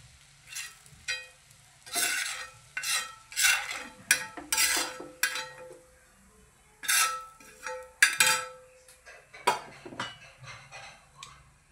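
An egg cooked in a pan for a Surat-style street dish with long pav buns, heard as bursts of close scraping and clattering of a utensil against the pan over a soft sizzle, separated by short pauses.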